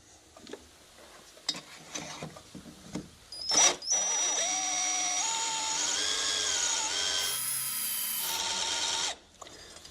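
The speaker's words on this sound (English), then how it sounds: "Always put a little oil down there for the drill, and we're going to drill that stud out." A few clicks and knocks, then a power drill whirs steadily for several seconds, its pitch shifting slightly as it bites into an oiled metal stud, before stopping abruptly.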